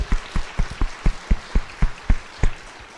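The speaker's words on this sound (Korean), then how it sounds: "우리 모두 하나님께 영광의 박수를 하겠습니다" A church congregation claps in a steady rhythm, about a dozen distinct, fairly close claps evenly spaced over a few seconds, with no talking.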